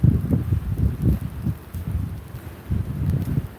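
Strong gusts of wind buffet the microphone outdoors during a cold snow and ice storm, coming as low, rumbling surges in uneven bursts; no voices are heard.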